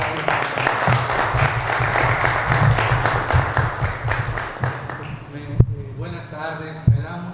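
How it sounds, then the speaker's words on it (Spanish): Audience applause at an academic seminar on the 1824 Constitution held in the Senate of the Republic in Mexico, a dense steady clapping that fills most of the stretch before tapering off, with a few isolated claps near the end. "Un aplauso, por favor."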